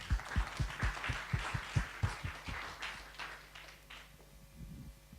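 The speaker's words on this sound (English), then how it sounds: "I think let's all give them a big round of applause." Audience applause for presenters at the close of a public health technology session, a burst of hand clapping that starts strong and gradually thins out and fades.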